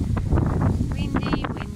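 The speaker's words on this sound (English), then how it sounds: "And windy as usual." Wind gusting outdoors at sunset near mountains, buffeting the microphone with a low, steady rumble while a person talks throughout.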